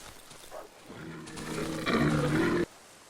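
An elk bugles in the Darkwood Ash video game, a single loud, drawn-out, rasping call that swells, then cuts off abruptly, heard alone without talk.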